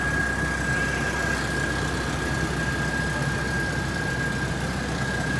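Nissan 240SX S13 engine running steadily, a constant loud mechanical drone with a sustained high whine, unbroken and close with no talking.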